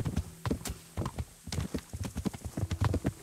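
Horse hooves clip-clopping in a steady, busy rhythm while riding alongside another horse in Kingdom Come: Deliverance, close and clear, with no talk over them.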